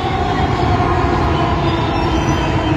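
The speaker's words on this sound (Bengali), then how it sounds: "আওয়াজ শুনে মনে হচ্ছে যে একটা মেট্রো আসছে, এইমাত্র প্রবেশ করবে এখনই।" A Dhaka metro train pulls into an elevated station with a loud, continuous, close rumble and rolling roar that stays steady throughout.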